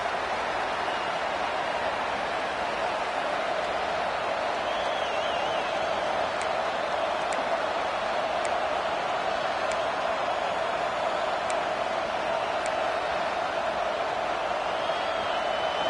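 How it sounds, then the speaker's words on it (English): A home crowd at an Auburn college football stadium keeps up a steady, distant roar on a third down, a continuous wash of noise with no distinct peaks. "This Auburn crowd trying to conjure up a little magic here on third down."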